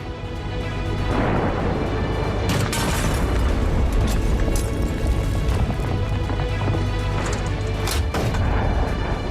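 Heavy, rumbling bomb blasts from a fighter jet air strike in Lebanon, with a deep, sustained roar and crackling debris, loud and continuous with a few sharper bursts layered on top.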